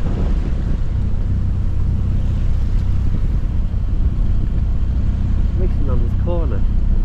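A sailboat motors in under engine power in the Marlborough Sounds of New Zealand, a steady low drone beneath heavy wind buffeting, while people talk over it throughout.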